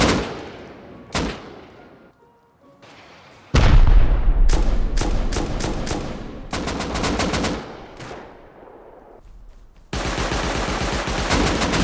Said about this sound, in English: rocket fire is raining down onto the breach point in the walls